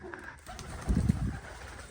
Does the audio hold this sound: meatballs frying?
no